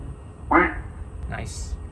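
A Tesla's custom lock sound plays a duck quack, two short nasal bursts in quick succession, fairly close and moderately loud.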